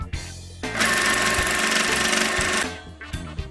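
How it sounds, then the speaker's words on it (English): A sewing machine stitches two seams to fix a fabric tie onto a utility pocket, a fast, loud mechanical whir running steadily for about two seconds between short stops and clicks, with no talking. "Pin the tie to the fabric where you made your marks, and sew two seams to attach it."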